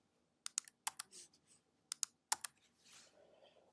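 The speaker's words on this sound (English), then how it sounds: "I'm going to click in the center of it and hit delete." A few crisp computer keyboard and mouse clicks tap out close and quiet in a short irregular cluster, then soft shuffling noise follows, with no talking.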